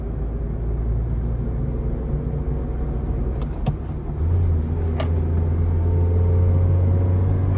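A car engine labouring as it climbs a hill, heard from inside as a steady low rumble whose pitch drops into a deeper drone partway through, loud and continuous with faint clicks.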